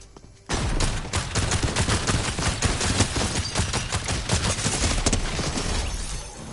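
Rapid gunfire aimed at an opponent in an online PS4 shooter: a dense, continuous stream of loud shots that starts abruptly and keeps a steady automatic rhythm for several seconds before trailing off.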